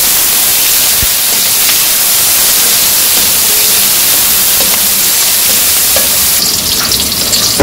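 Onions and green chilies frying in hot oil with bay leaf and cumin in a pan during a village-style chicken curry, a loud, close, continuous hiss and crackle of sizzling with no talk.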